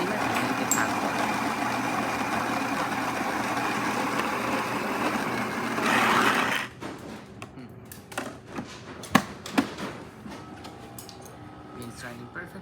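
Gaggia espresso machine running a test shot after a new board and full tune-up, a steady pump hum for about six seconds that cuts off, followed by quieter clicks and knocks.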